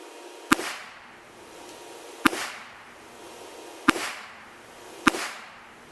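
Four sharp gunshots from a Smith & Wesson Bodyguard 380 micro compact pistol at an outdoor range, evenly spaced about two seconds apart, each loud crack followed by a short ringing decay.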